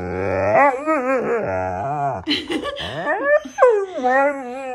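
A husky whimpers and whines in long, wavering high-pitched cries, with a short snuffling break in the middle, close by.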